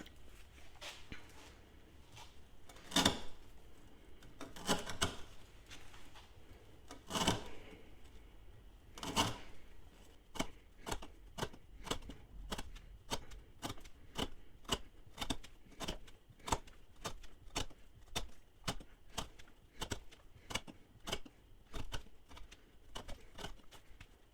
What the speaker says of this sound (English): let's cut up some of this 1/2 inch twisted sit style rope